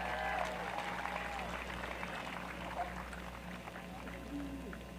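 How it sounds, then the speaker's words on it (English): Steady applause from a crowd at a high school graduation ceremony, a continuous wash of clapping throughout with faint voices mixed in. "Nice round of applause."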